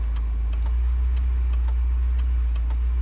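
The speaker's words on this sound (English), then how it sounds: "We're turning the car on." A Mazda MX-5 engine is running at a steady idle, with a loud, constant low hum and a few faint ticks over it. No one speaks.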